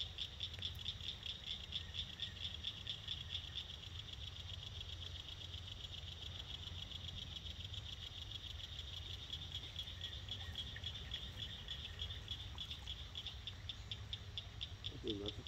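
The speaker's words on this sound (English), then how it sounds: "I think that's a frog." A frog calls at an evening fishing spot, a faint steady pulsing chorus under a constant low hum and insect-like buzz, distant and continuous with no clear talk.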